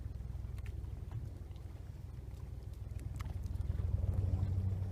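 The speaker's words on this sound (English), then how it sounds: "now the trolling motor, you can see the head is working to steer itself and power itself" Minn Kota trolling motor on Spot Lock holding a boat in place, its head steering and powering itself: a low, steady electric hum over lapping water and wind, swelling slightly toward the end.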